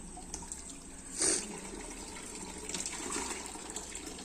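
A tap runs steadily indoors, with a brief louder gush near the start, and the water continues under faint background activity.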